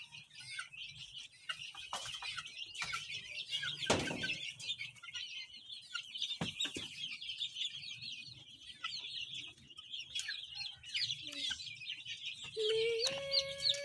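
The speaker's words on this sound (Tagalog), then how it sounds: "So, ito yung isang sisiw." Young chicks just moved from an incubator peep continuously in high, rapid chirps close by. Occasional soft thumps and rustles sound among them.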